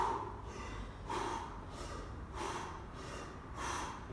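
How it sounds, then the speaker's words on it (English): Steady diaphragmatic breathing, in and out through the mouth, during post-workout recovery: four rhythmic, breathy exhalation bursts about a second apart, close and moderately loud with no talk. "so this is the diaphragmatic breathing"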